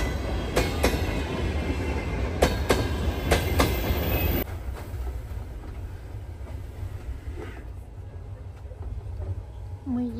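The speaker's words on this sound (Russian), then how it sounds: "Ждем свой поезд и скоро поедем." A passenger train rolls past close by, a loud steady rumble with rhythmic clacks of wheels over rail joints that fades to a quieter hum as it moves away.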